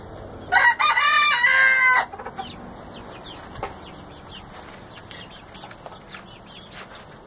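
Chickens in a coop with silkies and barred rocks: a loud, close rooster crow opens, followed by soft scattered clucks and small scratching sounds in a quiet background.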